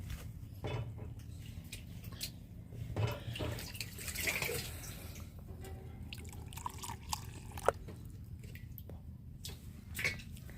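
Water running and dripping as a herbicide sprayer tank is topped up outdoors, a steady low trickle with occasional splashes and drips, fairly faint.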